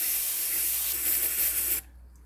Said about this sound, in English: Now, I use this brake and clutch cleaner.